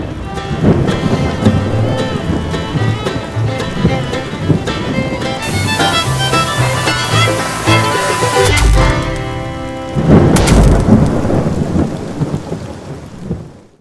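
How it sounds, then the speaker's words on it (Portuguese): Heavy rain pours down during a thunderstorm in São Paulo, with thunder rumbling and cracking loudly over a steady dense downpour; a louder thunder burst comes near the end. "Tomamos um pé de chuva aqui"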